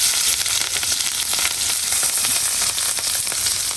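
Chopped garlic, onion and green chili sizzle steadily in hot oil, a dense, loud, continuous frying hiss with crackles throughout and no voices.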